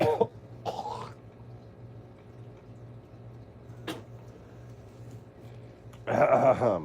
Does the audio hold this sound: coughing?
yes